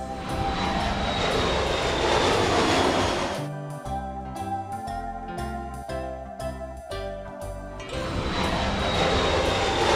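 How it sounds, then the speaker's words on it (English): Aeroplane engines drone in a loud broadband roar that fades out while a bright tinkling musical jingle plays, then the roar swells back in at the end. "Aeroplane."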